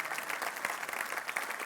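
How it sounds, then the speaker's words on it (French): Church congregation applauding for the glory of God, a dense, steady wash of many hands clapping together, fairly loud and sustained throughout. "on applaudit comme il faut pour la gloire de Dieu"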